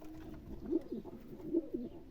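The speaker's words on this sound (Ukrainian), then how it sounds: "Це голубка" Soft, low pigeon coos repeat twice in close succession, nearby and gentle against a quiet background.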